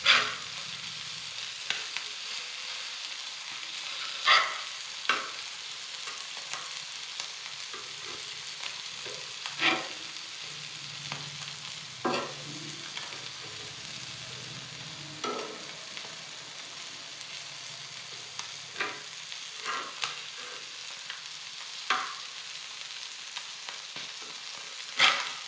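Fresh puti fish frying in a pan, a steady close sizzle broken by sharp crackles and spatters every second or two, with occasional clinks as the pieces are turned, no talking.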